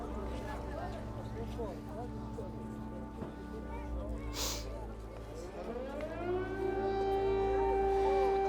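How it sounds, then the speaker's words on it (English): A civil defense air raid siren outside Lviv wails in the distance, its rising tone building toward the end over steady low rumble and background ambience. "we've just had an air raid siren go off here"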